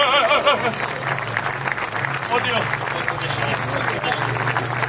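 Audience applause at a live cabaret show, a steady crowd clapping with a voice speaking over it near the start and a low hum underneath throughout.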